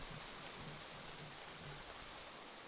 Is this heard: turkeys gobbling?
no